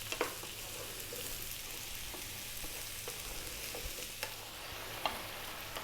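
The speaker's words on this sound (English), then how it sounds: "about another 3 or 4 minutes on this high heat. Moving it around often." Mushrooms fry on high heat in a pan with a steady soft sizzle, with occasional scraping clicks and taps as they are stirred, quiet and close with no voices.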